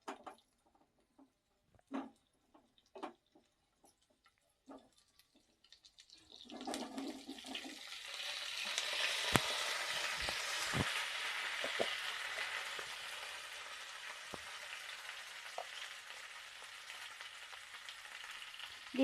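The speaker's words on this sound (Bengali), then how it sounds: "ওই তেলেই আমি দিয়ে দিচ্ছি আলুগুলো। আলুগুলো আমি ভেজে নেব।" Potatoes dropped into hot oil after a few quiet clinks, bursting into a loud, steady sizzle that continues evenly to the end, with no talking.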